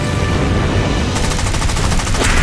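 Rapid machine-gun bursts from aircraft in the mobile air-combat game War Wings, loud and dense, firing continuously over engine roar and game noise, with the rattle growing sharper partway through.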